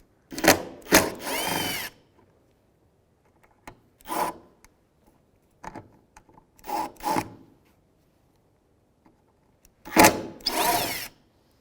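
A power driver backs out mounting screws from the rear trim of a 2007-2013 Acura MDX, giving short whirring bursts that start and stop in an irregular rhythm, close and fairly loud, separated by near silence.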